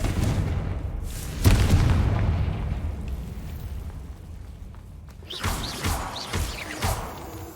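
A Confringo fire spell in Hogwarts Legacy bursts into booming explosions, one heavy blast early then a cluster of sharper impacts near the end, with fading rumble between.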